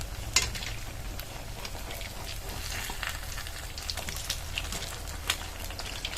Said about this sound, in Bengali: ভাজার ক্ষেত্রে একটা পিঠ হয়ে গেলে আর একটা পিঠ উল্টে দিতে হবে